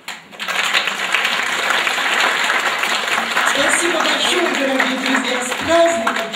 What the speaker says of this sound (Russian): Прошу аплодировать.